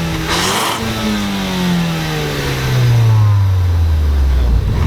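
A 2018 Ford Focus ST engine revs up with a rising intake whoosh, then settles into a loud, steady drone, close and alone.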